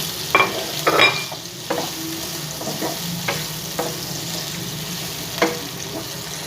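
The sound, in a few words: onions frying in a pan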